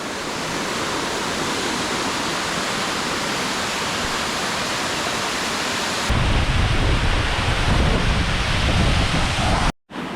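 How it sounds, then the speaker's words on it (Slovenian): Benkovski waterfall in Istria, Croatia, roars as a steady broadband rush of falling water, close and loud, growing heavier and deeper partway through before a brief cut-out at the end. "Evo, še en pogled na slap."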